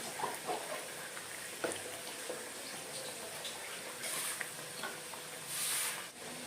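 Soya meal maker cutlets frying in hot oil, a soft steady sizzle and bubbling with occasional light clinks and stirring sounds, fairly quiet throughout.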